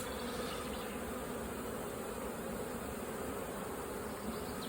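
Honey bees fanning their wings at a hive entrance in spring, a dense, steady droning buzz of many insects, close and continuous with no pauses or voices.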